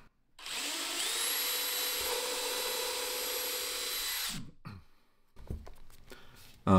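A power drill with a 13/64 bit bores into a trailer fender, likely polypropylene, on a Karavan 6 x 12 trailer: one loud, steady whine about four seconds long, then the drill stops, followed by faint handling clatter.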